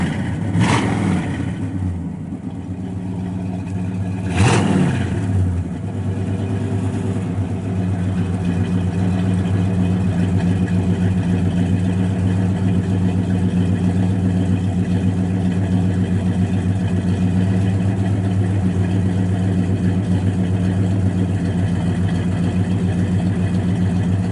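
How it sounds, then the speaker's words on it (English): A car engine revs twice through its exhaust in quick sharp bursts, then settles into a steady, throaty idle that holds close and loud for the rest of the stretch. "Sounds really good out the exhaust."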